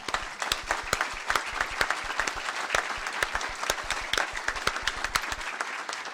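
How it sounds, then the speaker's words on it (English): A college audience applauds continuously, with dense overlapping claps and sharp individual hand strikes standing out, fairly close and sustained throughout without speech. "So please give all of yourselves a round of applause"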